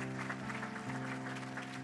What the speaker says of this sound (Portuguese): Para ele, uma grande, grande salva de palmas.